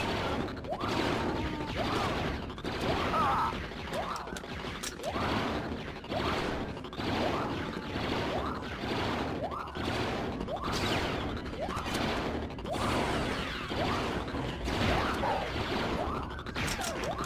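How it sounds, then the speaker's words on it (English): Gunfire crackles through a Star Wars Battlefront II (2005) street battle, with rapid blaster and gun shots in a dense, continuous barrage along with crashes and impacts. No speech is heard. "Street shooting!"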